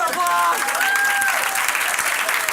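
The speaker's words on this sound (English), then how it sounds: "That's our senior applause!" An audience at an improv comedy graduation show applauds steadily in a small room, with cheering and a voice over the clapping.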